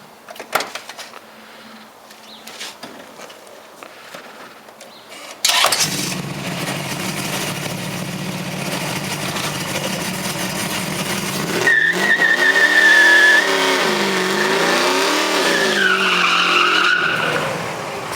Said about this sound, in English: So Clark, can this car really do what it was really built to do? What's that? Spin the tires.